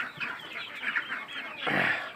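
Sonali chickens about five weeks old clucking together in a flock, overlapping soft clucks rising into a louder burst near the end, close by.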